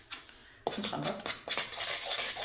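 Cake batter is stirred in a bowl with a utensil, a close run of soft wet scraping and light clinking strokes repeating in an uneven rhythm.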